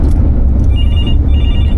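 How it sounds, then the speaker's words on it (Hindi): A phone rings with an incoming call during a busy working day at a property agency: faint, high, intermittent ringing tones partly buried under loud, steady rumbling background noise. "एक फ़ोन कटा और दूसरा फ़ोन आना शुरू।"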